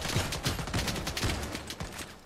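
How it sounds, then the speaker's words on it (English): Gunfire crossing from both sides in the Lost Light shooter game, a steady run of sharp repeated shots at medium distance across the whole moment, with no talking. "I love getting shot from both sides."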